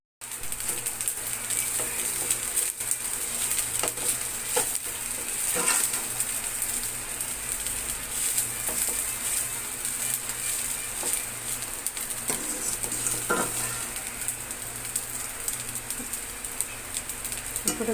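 Carrot rice is stirred in a frying pan: a soft, continuous low sizzle with occasional light scrapes and taps of a spoon, fairly quiet and close.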